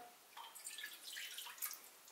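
Milk with 1.5% fat is poured into a bowl of dough mixture for börek, a faint, quiet liquid trickle with soft splashy patter lasting a couple of seconds, with no talk.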